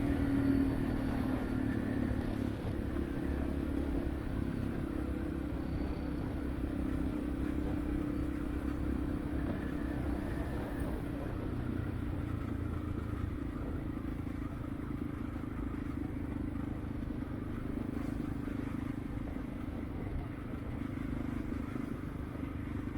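A Honda Dominator motorcycle rides through rush-hour city traffic in Sofia, its engine a steady low drone under continuous wind rush and road rumble for the whole stretch, with no voices.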